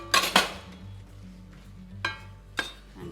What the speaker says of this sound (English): 3 tablespoons of yogurt. And that's just going to get whisked together